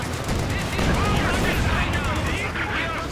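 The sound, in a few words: strafing run gunfire from a video game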